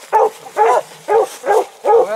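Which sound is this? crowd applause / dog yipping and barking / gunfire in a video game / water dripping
dog yipping and barking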